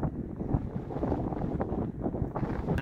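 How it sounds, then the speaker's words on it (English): Steady wind buffets the microphone, a dense low rumble with gusty surges throughout, no voices. "God knows what the wind is doing to this."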